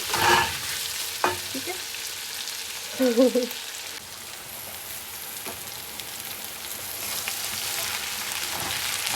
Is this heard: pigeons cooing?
no